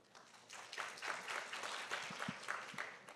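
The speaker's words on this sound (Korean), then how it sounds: "다시 한번 뜨거운 박수 부탁드릴게요." Sustained applause from a conference audience at a science journalism session, a steady wash of many hands clapping at moderate volume without voices.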